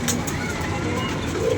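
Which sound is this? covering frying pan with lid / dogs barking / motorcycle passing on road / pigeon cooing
pigeon cooing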